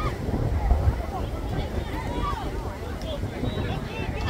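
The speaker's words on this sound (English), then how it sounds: "It's very windy." Wind buffets the microphone with a low rumbling roar at an outdoor sixth-grade football game while voices chatter and call out in the background.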